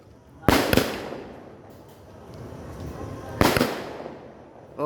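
Diwali firecrackers bursting outdoors in Bankura, West Bengal: two sharp loud bangs about three seconds apart, each with a short crackle, over a low background murmur.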